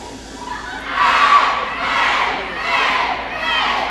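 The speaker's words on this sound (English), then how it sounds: "They're doing the Redhawk Express, as we like to call it. It's one of our famous cheers." A high school volleyball crowd, JV and freshman players among them, chants a school cheer in swelling rhythmic waves, several loud surges of massed shouting at a gymnasium match between Glenbard East and Naperville Central.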